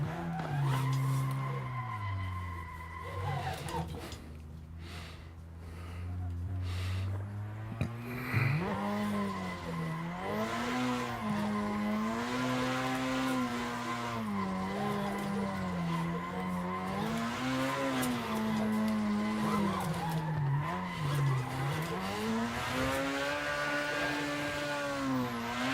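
A car drifts through a practice session, its engine holding a loud, continuous wavering whine while the tires squeal without a break, the pitch rising and dipping with each change of throttle and angle.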